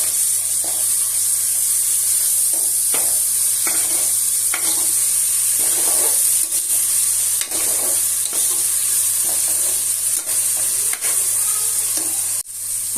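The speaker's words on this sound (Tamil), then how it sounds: "பச்சை வாசம் போன வரைக்கும் நல்லா வதக்கணும்." Garlic and dried red chillies sautéing in oil for mushroom biryani, a loud continuous hissing sizzle close up with intermittent stirring scrapes and clinks, no voices.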